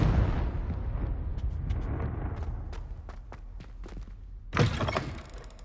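A Confringo fire-blast spell erupts in the Hogwarts Legacy video game, a loud rumbling burst at the start that fades into a low roll, with a second sharp blast near the end amid scattered thuds.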